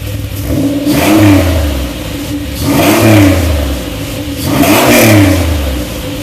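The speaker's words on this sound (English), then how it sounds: "give her a couple of revs for you" A car engine revs after a cold start, three rising and falling blips about two seconds apart over a rough idle, loud and close with no talk.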